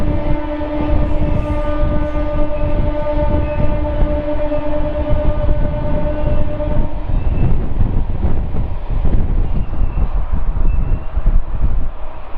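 A MEMU express train runs steadily without stopping through a small station, a loud continuous rumble with strong tonal hum, growing rougher and more clattering in the second half.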